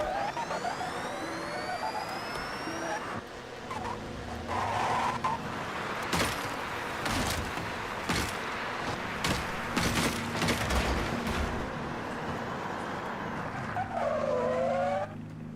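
A level 9 Porsche race car in Forza Horizon 6 slides through corners with repeated tire squeals and skids over a loud, revving engine, the screeches rising and falling across the run.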